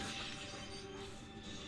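Glass shatters from gunfire in the TimeSplitters 2 video game, a dense, noisy crash of breaking panes filling the whole short moment at low overall volume with no talk over it.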